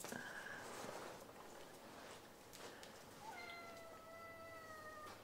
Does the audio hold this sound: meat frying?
no